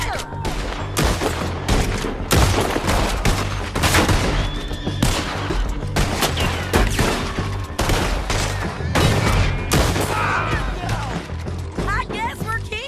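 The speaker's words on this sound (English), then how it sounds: "Can you stop with the shooting?" Dense, loud gunfire from Red Dead Redemption 2 rattles nonstop in rapid overlapping bursts and volleys, with occasional booms, while voices talk over the shooting.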